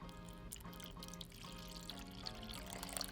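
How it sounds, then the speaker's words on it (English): Water is poured into a small container about two inches deep for regrowing lettuce, a steady close trickle with light splashing and dripping tones throughout. "You're gonna add about 2 inches of water."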